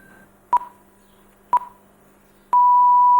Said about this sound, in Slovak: Časové znamenie.